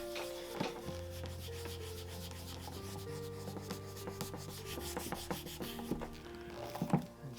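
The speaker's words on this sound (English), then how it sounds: "So I'm basically like wet sanding this leather here." Steady close rubbing and scraping of fine sandpaper wet sanding the leather of a shoe, continuous back-and-forth strokes with a faint hum underneath.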